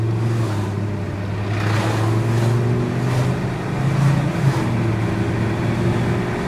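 Self-driving car engine accelerating: a steady, loud motor drone with road noise that swells slightly, heard from inside or close to the vehicle, with no talking.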